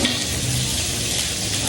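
Garlic fries in hot oil in a pan, giving a steady close crackling sizzle with faint stirring under it and no voices.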